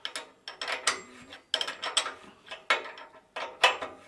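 A spanner turns a bolt on the chain guard of a green Kawasaki bicycle, giving five or six close bursts of rapid metallic ratcheting clicks, each about half a second long, separated by short pauses.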